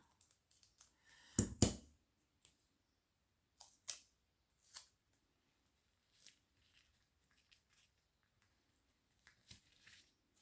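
A pair of scissors handled during a junk journal craft build with a coffee box, giving a few sharp close clicks and snips early on, then sparse light taps and rustles in a quiet room.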